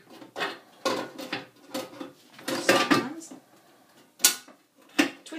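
Bread maker pan of a Morphy Richards machine set in and twisted to lock, a series of hollow metal clunks and knocks spaced across the moment, close, with someone talking in between.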